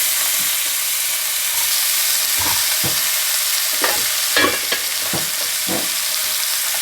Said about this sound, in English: Once the oil's hot, we're going to add 1 pound of ground beef.